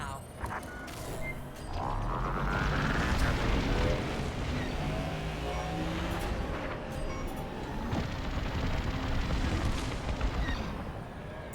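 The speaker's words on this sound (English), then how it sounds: "We're launching beradium missiles from the Overseer now." Beradium missiles launching from the Overseer in the Star Wars Squadrons game produce a swelling, rumbling roar with rising whooshing tones, loud and sustained, under some game sound and speech.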